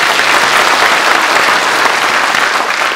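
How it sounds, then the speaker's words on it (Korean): Loud, dense crowd applause at an outdoor gathering in Gangneung, continuous and even from start to finish with no talk over it. "우리 여성분들을 위해서 우리 다 같이 한번 힘찬 박수"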